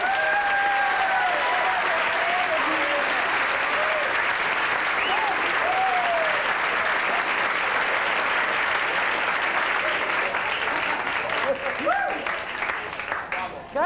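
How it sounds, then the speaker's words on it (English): A big warm round of applause from a comedy club audience for Morgan Fairchild, loud dense clapping with some whoops and cheers rising over it, holding strong before starting to thin out near the end. "could we have a big warm round of applause for Morgan Fairchild for helping me out right now?"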